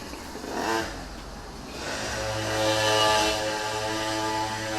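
A car passes on a road, its engine swelling as it nears, peaking around three seconds and then fading, fairly faint with no talk.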